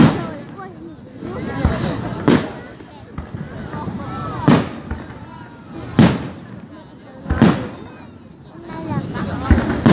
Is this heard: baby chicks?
no